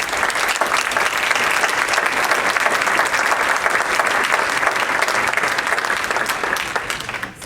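An audience applauds steadily, a dense, even wash of clapping that holds loud for several seconds before tapering at the very end.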